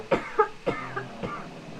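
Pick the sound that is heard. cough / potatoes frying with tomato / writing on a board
cough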